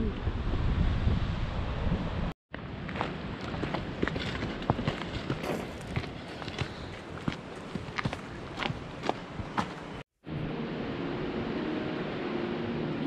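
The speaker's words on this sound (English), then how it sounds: "That tide, or the waves." Ocean surf rolls onto the beach at Heceta Head, a continuous rushing wash with gusty wind noise, crunching footsteps on sand and brief pauses where the sound cuts out.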